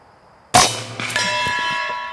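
A single sharp crack from a PCP Air Force .25 caliber air rifle shot off a bottle, followed by a ringing metallic clang of the pellet striking a steel target.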